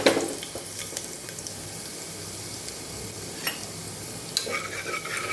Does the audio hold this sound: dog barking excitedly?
no